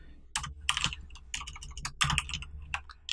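Someone types a terminal command on a computer keyboard: a few quick bursts of crisp key clicks with short pauses between them, close and clear in a quiet room.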